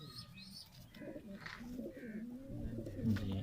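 A female teddy pigeon coos softly on a rooftop loft, with low, rolling coos and a few faint chirps from other birds in a quiet setting.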